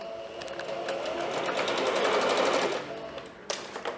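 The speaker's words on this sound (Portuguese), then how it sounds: "vou passar uma costura para fechar isso aqui." A sewing machine stitching a seam to close a round piece, a steady fast mechanical whir with rapid needle ticking close by, slowing briefly near the end, with little talk.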